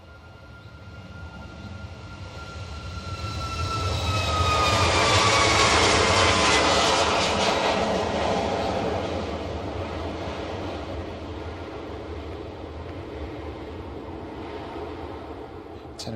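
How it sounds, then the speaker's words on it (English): A TUI Boeing 737 MAX 8 at Bristol Airport roars down the runway on its takeoff roll, jet noise swelling to a loud peak midway and then easing off while staying steady and continuous. "TUMM for TUI 737 MAX 8 again, running down the runway here,"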